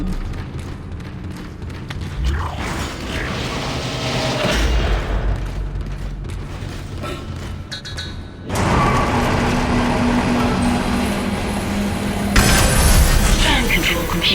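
Tram pulling in at the flight deck station in the video game Dead Space, a heavy mechanical rumble and rising machinery roar with clanking and a deep boom, loud and layered with other game sounds.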